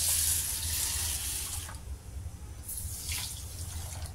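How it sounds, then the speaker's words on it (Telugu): Water splashes and runs steadily as soaked lentils are rinsed in a bowl under a tap, with two brief louder surges of sloshing. "ఇప్పుడు వీటిని 2-3 టైమ్స్ నీట్గా కడగాలి"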